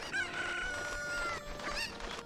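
Chickens in a village in the video game The Legend of Zelda: Ocarina of Time give out close, fairly loud clucks and squawks with drawn-out tonal calls, all over about two seconds.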